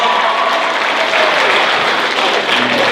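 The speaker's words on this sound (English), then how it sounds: "Give yourselves a round of applause." A convention crowd applauds at the close of a My Hero Academia panel at Yamacon 8 in 2019. Close, dense clapping runs steadily and without a break for the full three seconds.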